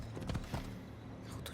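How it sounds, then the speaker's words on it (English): A horse's hooves clip-clop in Assassin's Creed Odyssey, a few soft, distinct hoof strikes at a slow walking pace over a low ambient game background. "I need to take this horse either to Adonis or to the stable boy."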